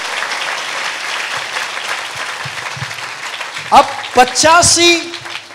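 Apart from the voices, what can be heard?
church congregation applause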